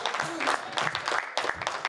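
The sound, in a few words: audience applause welcoming poet Gaurav Chauhan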